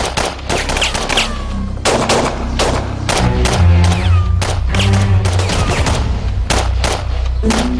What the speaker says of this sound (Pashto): زر کوئ، ډزې وکئ، زر کوئ.